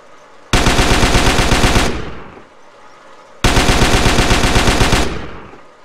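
Automatic gunfire in the video game GTA San Andreas: two loud sustained bursts of rapid machine-gun fire, each lasting about a second and a half, separated by a short quiet gap and ending with a brief fading tail.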